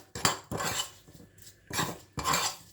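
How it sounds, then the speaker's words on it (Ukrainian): A spoon stirs a cumin marinade with olive oil and cheese in a bowl, making four bursts of clinking and scraping against the dish with brief pauses between strokes, close and alone. "Тепер все добре перемішуємо"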